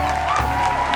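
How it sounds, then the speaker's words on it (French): An audience applauds and cheers for Boris at a live show, a dense crowd roar of clapping and whoops filling the whole short moment. "Applaudissez Boris, franchement."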